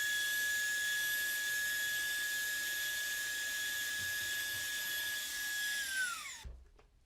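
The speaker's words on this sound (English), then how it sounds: "Here I go ahead and put the vacuum attachment on the end." A steady high-pitched whine of a handheld 2-in-1 air blower and vacuum sucking up rice runs continuously, then winds down and cuts off near the end.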